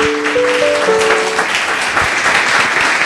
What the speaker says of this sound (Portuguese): Louve a Deus com as suas palmas bem fortes.